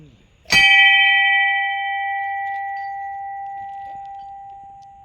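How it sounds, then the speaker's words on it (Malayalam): A metal temple bell among ruined stone temple remains in a forest is struck once nearby, ringing with a bright attack and a long, slowly fading hum. "ഇന്നത്തെ മണിയുടെ ക്വാളിറ്റി നോക്കും"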